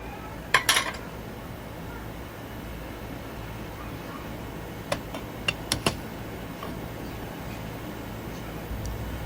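Collard greens cooking in a pot are stirred: a short clatter of utensil against the pot near the start, then a quiet pause and several sharp metallic taps later.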